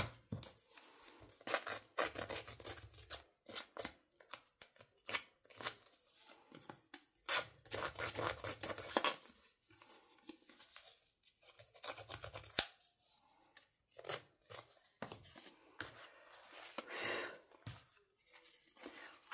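Scissors cutting material for a craft project, a close, irregular series of snips and crisp rustling cuts with short pauses, no talking.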